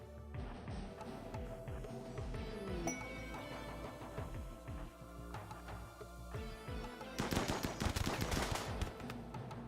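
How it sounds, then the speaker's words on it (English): Assault rifle fire crackles in a video game, fired from a position below, with repeated rapid bursts and scattered metallic clinks and impacts throughout, growing denser and louder toward the end. "the guy with the AR is shooting from down there"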